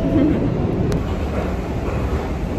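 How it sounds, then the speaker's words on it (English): New York subway train riding along underground, a steady close rumble and rattle of the car with continuous broadband noise and no clear voices. "On the subway."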